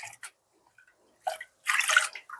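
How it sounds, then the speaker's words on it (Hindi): Rice water is poured into a half-full bucket of water, making short splashing bursts of liquid, with one brief splash, then a longer, fuller gush, close and quiet. "ये सब पानी को मैं इस बाल्टी में रखे हुए आधा बाल्टी पानी में पूरे पानी को मैं मिला दूंगी।"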